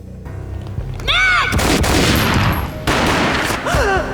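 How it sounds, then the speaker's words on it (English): Gunfire in the Max Payne video game, a loud close burst of booming shots with sharp attacks and ringing tails, followed by a second blast after a brief lull. "A gunshot boomed and she fell down in slow motion."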